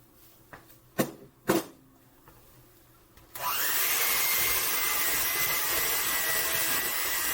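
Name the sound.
electric mixer mixing apple bread dough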